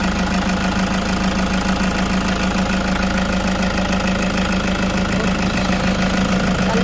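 Toyota GL Grandia engine idling steadily throughout, a constant close mechanical hum with a low drone and a faint knocking texture, no talk over it.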